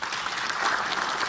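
Lawmakers in the National Assembly chamber applaud from their seats, a steady, dense wash of clapping that holds evenly throughout the short moment.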